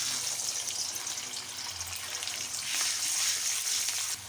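Ginger paste hits hot oil with cumin seeds in a pan, a loud steady sizzle and spatter that swells briefly partway through, with no voices over it.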